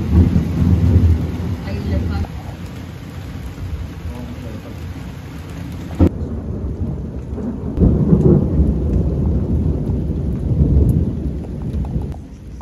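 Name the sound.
thunderstorm with thunder and rain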